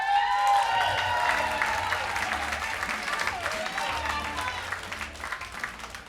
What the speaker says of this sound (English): How about a big round of applause for Michael Broder?